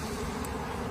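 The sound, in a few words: honey bees buzzing while shaken onto paper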